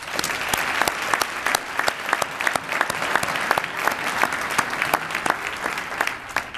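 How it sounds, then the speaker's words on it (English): Applause from a luncheon audience at a community foundation awards event, many hands clapping in a dense, even patter that holds steady for several seconds at moderate volume, with no voices rising above it. "So please join me in giving them one more round of applause."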